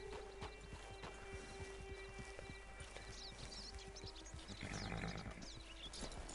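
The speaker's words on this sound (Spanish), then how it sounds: "It's your horse." Horse hooves clip-clop steadily in a video game, a close, fairly even rhythm of hoofbeats with a brief whinny-like tone, sounding alone without talk.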